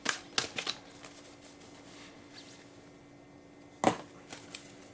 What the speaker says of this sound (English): Let's go ahead and shuffle and take a look at what we have here.